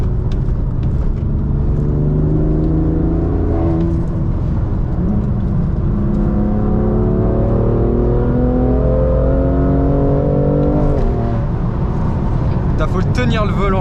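A BMW M2 CS driving at night, a loud steady engine drone from inside the car with rising and falling pitch as it accelerates and shifts, and someone talking over it.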